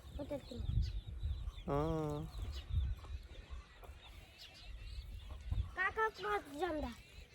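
A rooster calls twice, fairly faint and somewhat distant, the second call more broken up, with quiet voices and outdoor background around it.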